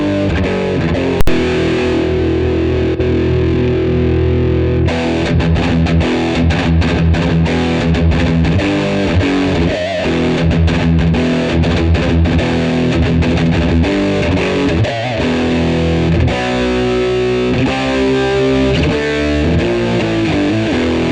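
Electric guitar played through a Gokko Mogwai overdrive pedal with the gain turned up, a loud, continuous crunchy overdriven tone of chords and riffs running throughout with no talking.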